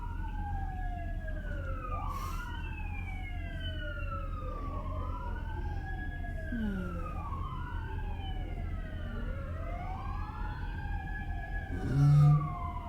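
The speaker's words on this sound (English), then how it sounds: "Cue siren." A wailing siren sweeps up and down repeatedly over a steady low rumble, loud and continuous for the whole stretch.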